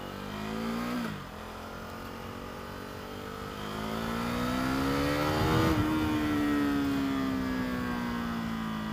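A KTM Duke 390 with its 375cc single-cylinder engine pulls on the road, a throbbing buzzy drone that dips briefly then climbs steadily in pitch as the rider accelerates, close and continuous with wind rush.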